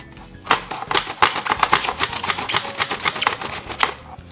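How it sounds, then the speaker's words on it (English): Cabbage shredded on a mandolin slicer for Southern-style cole slaw: rapid, crisp rhythmic rasping strokes, close and loud, repeating steadily with no talk. "You can use a mandolin and shred it"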